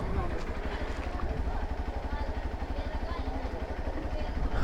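A motorcycle engine runs nearby with a steady low rhythmic throb, idling evenly throughout under people talking.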